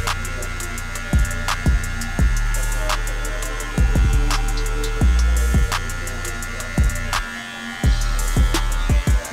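Budget hair clipper motor running with its blade lever fully closed, a steady electric hum and buzz with repeated brief clicks and taps as it works close by.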